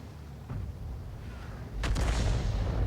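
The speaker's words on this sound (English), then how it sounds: "That's the enemy Arty firing in." Enemy artillery fires in the tank game World of Tanks, heard as two muffled, distant booms over a low rumbling background, the second one louder and fuller.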